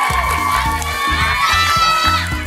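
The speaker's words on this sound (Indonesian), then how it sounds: "Tepuk tangan untuk Angga Yunanda." Crowd cheering and shouting, with excited whoops, greets a cast member at a film gala premiere. Loud, continuous and close, with rhythmic low thumping music underneath.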